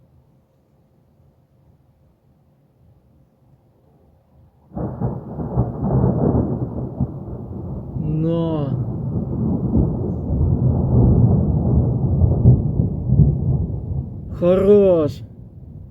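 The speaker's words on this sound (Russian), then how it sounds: "Десятая гроза в сезоне" Deep, loud thunder from an evening thunderstorm over Kharkiv rolls in abruptly and rumbles continuously for about ten seconds, with someone speaking briefly over it.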